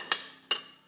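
Two sharp clinks of a spoon against a bowl while stirring avocado egg salad, close and distinct, a pause between them, with no talking.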